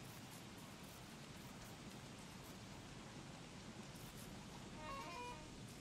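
Rain falls in the survival video game Don't Starve as a soft, steady wash of hiss, faint and even throughout, with a few small brighter chirps near the end.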